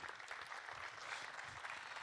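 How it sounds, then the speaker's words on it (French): Audience applause at an awards ceremony for web trophies on the Côte d'Opale, a steady, dense wash of clapping at moderate, somewhat distant volume with no pauses. "On vous applaudit, Président."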